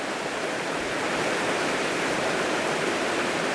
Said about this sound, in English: Enjoying the river.